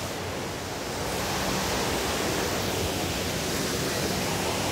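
The waterfall at Paley Park in New York City pours with a constant, dense, broadband rush, loud and steady from start to finish with no voices.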